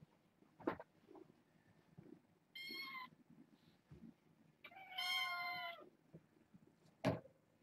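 Kittens at bedtime give two distinct meows, one short and one longer, quiet and slightly distant, with faint rustles and a soft knock between them.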